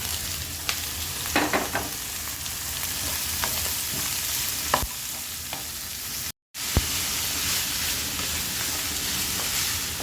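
Onion, carrot, beans and capsicum frying in a pan for oats upma, a steady close sizzle with occasional stirring scrapes and clinks, nearly unbroken apart from one brief cut.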